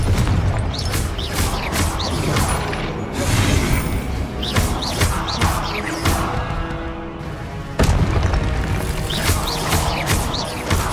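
Spell explosions and combat effects from Hogwarts Legacy on PC, a dense run of booming blasts, whooshes and crashing impacts with a loud music bed, bursts recurring every second or so and a sharp hit near the end.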